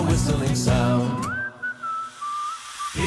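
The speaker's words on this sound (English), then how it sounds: "awakened by a whistling sound" Someone whistles a slow, wavering tune: a clear single pitch that glides up and holds, close and fairly loud, with no talking.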